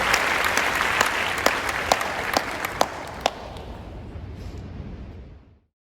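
An audience claps for a graduating elementary class of 2021 at a school ceremony. The clapping is dense and sustained with a few sharp standout claps, then thins and fades out over about five seconds.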